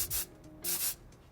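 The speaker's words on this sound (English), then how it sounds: "I'm going to spray it with the Kenra Volume Spray 25" Kenra Volume Spray 25 hairspray is misted over a finished chignon bun in two short, soft bursts of hiss close by, with a quiet pause between them.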